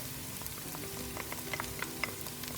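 Fresh vegetables sauteing in a pan, giving a quiet, steady sizzle dotted with small crackles and pops, low in level with no talking.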